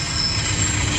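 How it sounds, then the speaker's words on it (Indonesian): Train passing nearby with a steady rumble and a high, sustained wheel squeal over the rails, loud and continuous throughout. "Tuh kereta api tuh, kuong jes-jes-jes, kuong jes-jes-jes."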